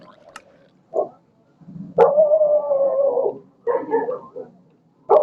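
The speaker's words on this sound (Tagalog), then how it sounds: "Sorry na lang sa ingay ng aso mga boy." A dog lets out short yelps and barks, then a drawn-out howl, followed by more barking close by.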